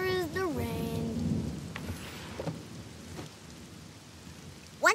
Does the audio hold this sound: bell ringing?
no